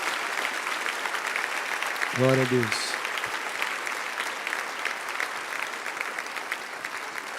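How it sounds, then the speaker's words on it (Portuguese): A church congregation applauds in a steady, sustained wash of clapping, broken briefly by a single voice speaking early on. "Vamos aplaudir essas pessoas"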